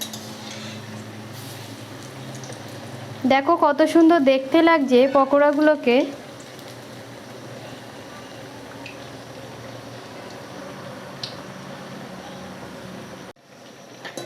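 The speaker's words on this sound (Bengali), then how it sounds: "এবার পকোড়াগুলোকে আস্তে আস্তে উল্টে পাল্টে আমি ভেজে নেব।" Taro leaf pakoras fry in hot oil with a soft, steady sizzle running throughout. A voice speaks briefly over it near the start, and the bubbling carries on faintly alone afterward.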